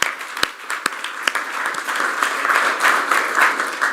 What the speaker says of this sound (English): Let's give our 5 panelists another round of applause